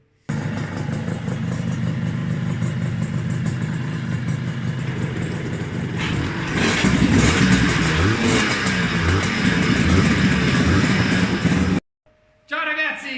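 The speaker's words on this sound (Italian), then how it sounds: "guardate il motore" A Gilera KK125 motorcycle engine runs steadily up close, then revs harder and louder before cutting out briefly near the end.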